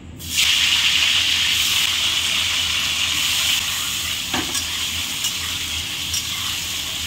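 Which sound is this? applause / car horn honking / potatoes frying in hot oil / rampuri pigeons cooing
potatoes frying in hot oil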